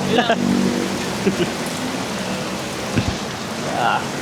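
Steady rain falls in a dense, even hiss, filling the whole scene, with people talking over it and a few soft bumps.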